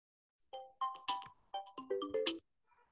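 A melodic phone ringtone plays during a spoken talk, a run of bright tonal notes in quick phrases, clear and fairly loud against silence.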